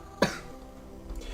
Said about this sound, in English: The first thing I do after finishing the game is coughing.